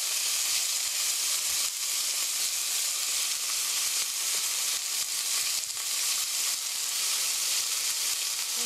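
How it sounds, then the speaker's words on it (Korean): Pork with kimchi fries in a pan: a loud, continuous close sizzle with steady hiss and faint crackles and no pauses or voices. "이렇게 펴서 고기가 윗면이 노릇노릇하게 익을 때까지 이렇게 익혀주세요"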